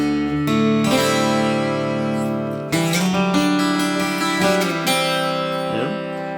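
Electric guitar playing a riff slowly: ringing strummed chords and picked notes with hammer-ons and slides, loud and close, with no talking.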